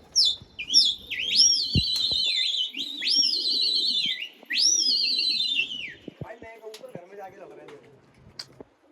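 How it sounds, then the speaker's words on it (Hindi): A flock of about fifty pigeons is flown over a pigeon-keeping rooftop, with repeated rising whistled calls in bursts, then scattered chirps and clicks, close and fairly loud, over occasional background voices. "ये कितने कबूतर जो उड़ा रहे हो आप अभी?"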